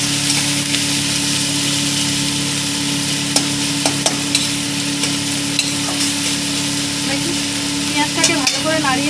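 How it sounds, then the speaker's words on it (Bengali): Two chopped onions frying in a pan while being stirred, with a constant close sizzle, a low steady hum underneath, and scattered scraping taps from the spatula. "এখন আমি পেঁয়াজটাকে ভালো করে নাড়িয়ে নেব।"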